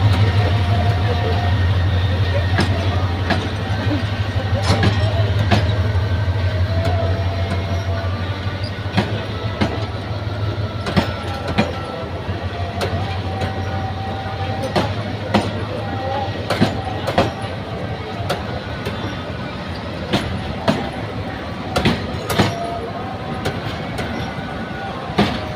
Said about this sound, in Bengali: এটা হয়তো একটা লোকাল ট্রেন হতে পারে